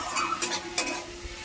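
Okra with tomato and onion sizzles steadily in a hot pan while a utensil scrapes and stirs it in a few quick strokes.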